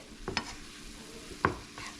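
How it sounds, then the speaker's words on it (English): Burrito bake mixture cooks in a pan with a low, steady sizzle, punctuated by two sharp spoon scrapes and taps as it is stirred. "We're going to mix that up. We're going to let that simmer down for a little bit."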